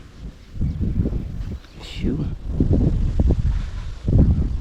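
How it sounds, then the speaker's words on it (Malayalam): Gusty wind buffets the microphone in low rumbling bursts, rising and falling over a few seconds outdoors during village fishing. "നല്ല കാറ്റാണ് കേട്ടോ"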